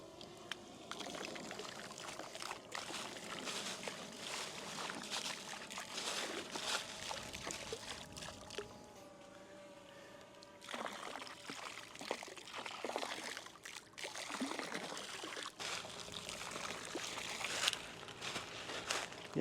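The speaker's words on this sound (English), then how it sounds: "what we're going to be doing is just pouring it along the edge" Beneficial bacteria liquid pours from a container along the edge of a garden pond, a continuous trickling splash close by with some handling noise, broken by a brief lull midway.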